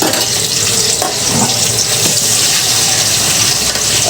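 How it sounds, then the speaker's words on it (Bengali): Frozen jackfruit fry dropped into lightly heated oil in a kadai sizzles loudly and continuously, a dense crackling hiss that stays steady throughout with no talking. "তেলটা হালকা গরম হয়ে গেলে আমি দিয়ে দিচ্ছি কাঁঠাল ভাজিটা।"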